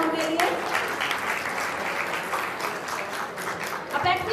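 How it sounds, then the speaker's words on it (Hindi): An audience at the Marudhara Ratna Award 2022 ceremony breaks into sustained, dense applause, a steady wash of clapping filling the hall throughout, with faint voices mixed underneath. "एक बार जोरदार तालियां उनके लिए।"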